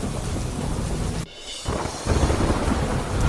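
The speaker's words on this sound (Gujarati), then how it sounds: "જૂનાગઢમાં માણાવદરમાં મુશળધાર વરસાદ ખાબક્યો" Heavy downpour in Junagadh, a dense continuous roar of rain with low rumbling thunder, briefly dipping before surging louder again.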